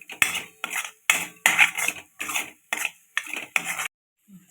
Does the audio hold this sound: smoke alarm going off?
no